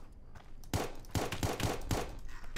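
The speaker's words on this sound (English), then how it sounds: "I'm getting shot from two different directions." Several close gunshots ring out in the Roblox game Apocalypse Rising 2, a rapid irregular series of sharp cracks over a steady background.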